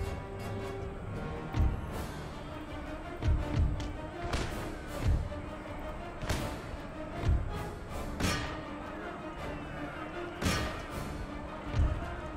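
Musket and rifle volleys from an Empire Total War siege battle sound as muffled, distant thuds, irregularly spaced over a steady ambient battle bed and fairly quiet overall.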